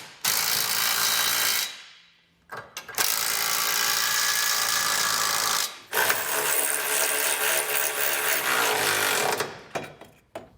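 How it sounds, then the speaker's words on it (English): A 3/4 inch socket on a ratchet snugs down the bolts of a Curt trailer hitch receiver on a 2023 Toyota Tacoma. Loud, close, rapid clicking runs in three long bursts, separated by brief pauses. "we can come back with a 3/4 inch socket and snug it all down."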